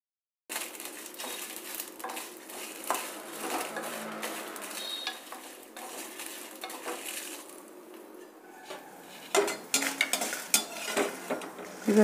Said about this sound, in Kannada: ಹುಣಸೆಹಣ್ಣು ಅದನ್ನು ಸ್ವಲ್ಪ ಫ್ರೈ ಮಾಡಿಕೊಂಡ್ರೆ ಕ್ರಿಸ್ಪಾಗಿ ಚೆನ್ನಾಗಾಗುತ್ತೆ